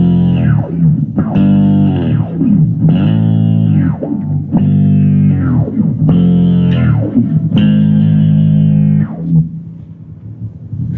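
An instrument runs through a chain of MXR pedals with a compressor and noise gate, producing six sustained, effected notes that each swell, bend and cut off abruptly, loud and close, ending in a low lingering hum.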